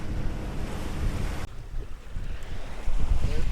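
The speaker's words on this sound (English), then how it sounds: "We're under sail, doing, I don't know, about 5-6 knots." Sailboat under sail at sea between Malta and Cartagena, about 5-6 knots, with a steady rush of wind, waves and hull wash and heavy microphone wind noise throughout.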